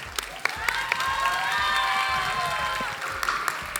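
Audience applause mixed with cheering fills a gala concert hall, steady clapping throughout with scattered shouts and whistles, while voices and music carry underneath.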